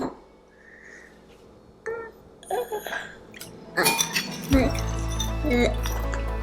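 Metal spoon clinking against a container while baby formula powder is scooped into whole milk, a few bright taps and chinks scattered through the clip amid kitchen handling noise, with people talking nearby.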